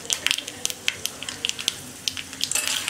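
Mustard seeds, dal and chana dal crackle and pop in hot oil in a small tempering ladle, a quick irregular run of sharp sizzling snaps, close and fairly loud.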